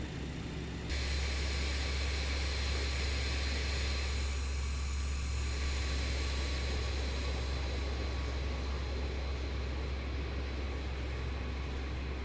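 An aircraft comes in to land in Microsoft Flight Simulator: a steady, loud engine roar with a broadband whoosh and a droning hum that holds throughout.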